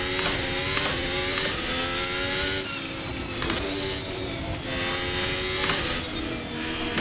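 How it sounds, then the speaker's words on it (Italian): Ferrari ground-effect race car lapping the Fiorano track, its floor scraping and bottoming out in sharp, irregular scrapes and knocks over the steady high-revving engine drone heard from onboard. "Incredibile, si sente il fondo spanciare."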